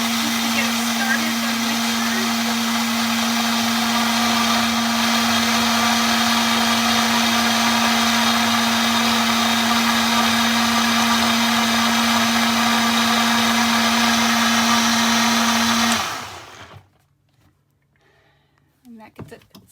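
A blender runs steadily at full power mixing ingredients for an eggless omelet in an RV kitchen on solar power, a loud continuous whir that stops abruptly near the end.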